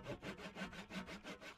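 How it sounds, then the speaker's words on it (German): A hand saw cuts off a small piece of wood in brief, quiet, evenly paced back-and-forth strokes, about eight rasping pulls heard close and alone. "ich säge hier gerade dieses kleine Dingsda-Bumster ab"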